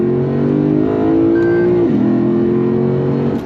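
Lexus RC F Track Edition V8 pulling hard in second gear, a loud sustained engine note climbing steadily in pitch with a brief dip midway, heard from inside the car.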